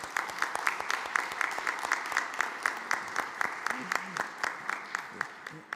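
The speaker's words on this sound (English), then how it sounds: "yes, let's give him a round of applause" Sparse clapping from a small audience at a mortgage reduction event, the individual claps rising and falling in a regular rhythm, with a voice faintly underneath.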